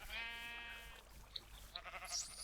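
Sheep in the video game Minecraft bleat quietly, giving a drawn-out wavering baa followed by a couple of shorter bleats, and no talking is heard.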